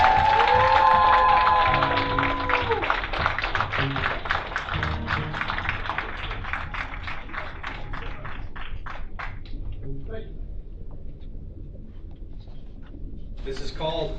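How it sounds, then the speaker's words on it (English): Applause for Zach Fresquez, a soldier suffering from PTSD, rings out from an event crowd, loud and dense at first, then thinning to scattered claps before fading, with voices heard over the start. "show him a huge round of applause"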